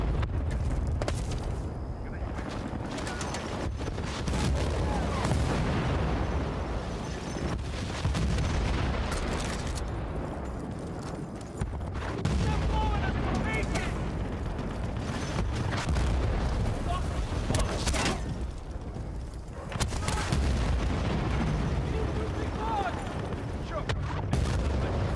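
Gunfire and explosions in the video game Battlefield: Bad Company crackle and boom in repeated bursts over a dense, rumbling battle soundscape, with occasional voices under the din.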